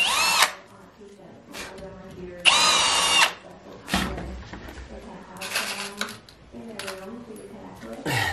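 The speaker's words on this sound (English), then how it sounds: "Normally I drill both holes" Power drill boring holes into logs to fit steel banded log spacers, several short bursts of whining drilling spaced through the clip, close and loud, separated by quieter pauses with handling noise.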